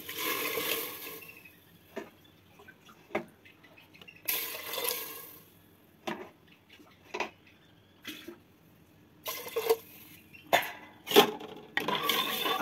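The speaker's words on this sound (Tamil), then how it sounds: "5 கப்பு தண்ணி ஊற்றிருக்கிறேன்." Water being poured into a pot for wheat rava pongal, heard in several separate splashing bursts with quiet pauses between them, close and moderately loud in a kitchen.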